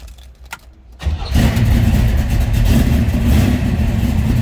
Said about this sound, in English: Let's go ahead and fire this up so you can hear it run.